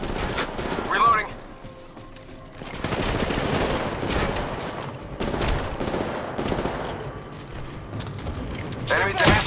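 Gunfire in the mobile battle royale Apex Legends Mobile, repeated bursts of shots with mechanical weapon handling sounds, dense and close, mixed with game voice lines and talk throughout.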